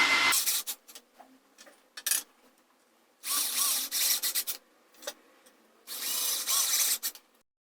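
A power drill bores a pilot hole into wood in three loud bursts separated by short pauses, with faint handling noises in between and no talking.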